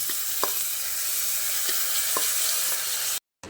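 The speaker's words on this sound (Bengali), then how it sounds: "আরও 2 মিনিট মতো ভেজে নিচ্ছি।" Chopped ginger frying in a pan for moong dal, a continuous soft sizzle with a few faint scrapes of stirring, alone without voices, cut off briefly near the end.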